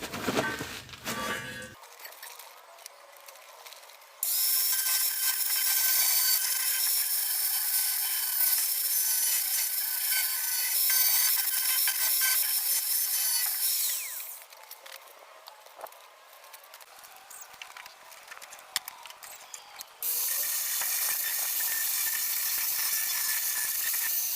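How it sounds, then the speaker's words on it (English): A power sander grinds across the underside of a broken Suzuki F6a chassis frame in long loud bursts with brief quieter gaps between passes, close and harsh with a bright rasping hiss. "Mag-sander din tayo sa ilalim."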